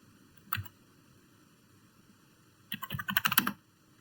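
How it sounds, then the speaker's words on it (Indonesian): Keys on a computer keyboard typing a ping command: one short click burst near the start, then a quick run of about a dozen close, crisp keystrokes after a pause, with no voices. "Oke, kita ketik di sini."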